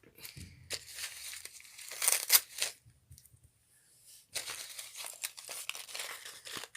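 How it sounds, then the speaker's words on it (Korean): A plastic package of slime toppings is torn and crinkled open close up, with bursts of crackling and ripping and a short quiet gap before more rustling. "뜯어볼게요"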